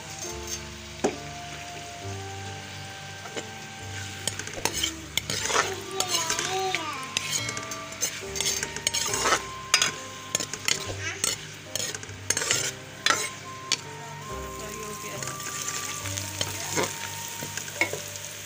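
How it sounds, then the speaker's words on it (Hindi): Sizzling and crackling of onions frying in hot oil, with intermittent stirring and utensil clinks scraping the pan; a faint background tone hums throughout. "ऑयल हमारा गर्म हो गया है, मैं अभी प्याज शामिल कर रही हूँ।"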